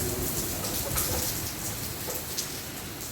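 Heavy rain pours steadily during a thunderstorm, a dense continuous hiss of drops on surfaces with no voices, close and fairly loud throughout.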